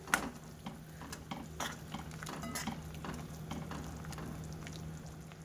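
Pieces of leftover roti stirred into boiling milk in a pot, with quick scraping and clinking of a spoon against the vessel over a low bubbling hum; no voices.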